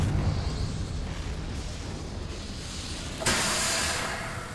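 A Confringo blasting spell goes off in Hogwarts Legacy: a sudden broadband burst late in the clip swells into a loud, sustained rushing roar over a steady rumbling game backdrop, with no talking.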